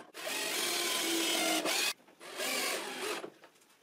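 A power drill or driver drives screws into the wood of an Adirondack chair during assembly, heard as two sustained whirring runs, the first longer and the second shorter, close and loud with no voices.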